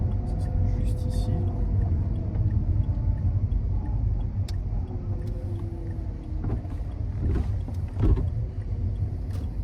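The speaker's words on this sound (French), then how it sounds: "malgré qu'on roule sur une route relativement abrupte, aucun bruit suspect au niveau des suspensions" Inside a Smart ForFour climbing a narrow, steep road, a steady low engine and road rumble fills the cabin with faint rattles and tire noise, while a person talks quietly over it.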